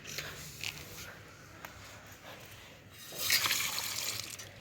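Water poured onto the soil of a potted plant, a soft trickle and dribble that swells into a louder splashing pour toward the end, close by, with faint background noise.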